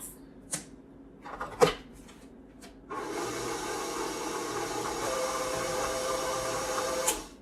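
A stand mixer with a paddle beats red velvet white chocolate chip cookie dough. A few sharp clacks and knocks come first, then a steady, moderately loud motor whir runs on to the end.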